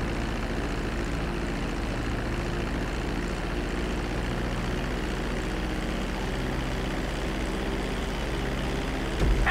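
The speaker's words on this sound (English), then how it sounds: "Now let's get the plane off the runway." Airplane engine drones steadily as a plane lands in a flying school video game, a loud, unbroken roar filling the whole stretch with no voices.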